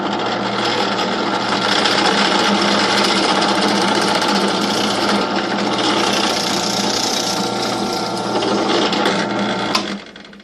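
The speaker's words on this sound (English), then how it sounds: "Let's just drill a hole near the end of our piece for our dowel." A power drill whirs loudly and steadily as it bores a dowel hole into a wooden fiddle part, then cuts off abruptly near the end.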